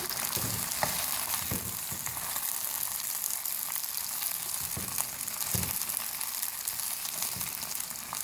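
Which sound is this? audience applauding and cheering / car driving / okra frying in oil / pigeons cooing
okra frying in oil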